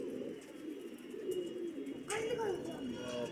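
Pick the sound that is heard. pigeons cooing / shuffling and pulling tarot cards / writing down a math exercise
pigeons cooing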